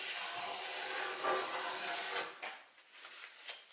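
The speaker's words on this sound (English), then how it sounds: "I'll make an initial cleanup with a putty knife." A putty knife scrapes excess glue squeeze-out off wood in a quiet workshop, a soft continuous rasping that breaks into a few short scraping strokes at the end.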